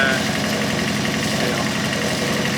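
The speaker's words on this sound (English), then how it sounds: "we're just running the engine a little bit to see if it's" A boat's diesel engine idles with a steady, rumbling drone and a faint knocking pulse, loud and close, running without pause.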